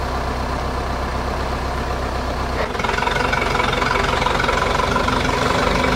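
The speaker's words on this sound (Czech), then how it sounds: "Traktor." A Zetor 6245 tractor's heavy diesel engine idles with a steady low chug, then its tone shifts and rises slightly partway through as it keeps running nearby, while pulling another tractor from mud.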